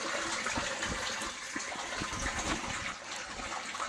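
Potassium permanganate solution being stirred for a pond, a continuous close sloshing and swirling of water with soft knocks from the stirring, no talking.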